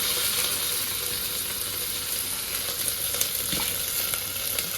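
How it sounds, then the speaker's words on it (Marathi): Onion sizzles and crackles steadily in hot oil, a continuous bright frying hiss with occasional small pops. "त्याच्यासोबतच कांदा टाकणार आहे तळण्यासाठी"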